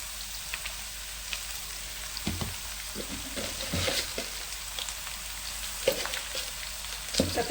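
Ridge gourd pieces frying in a pan with turmeric and rock salt, a soft continuous sizzle with scattered clicks and scrapes of a spoon stirring, fairly quiet and close.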